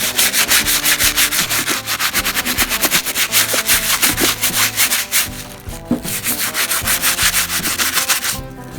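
A brush scrubs a sneaker with soap in steady, close back-and-forth strokes, a continuous rasping rub that keeps going without any talk.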